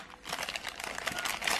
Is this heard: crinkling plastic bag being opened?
yes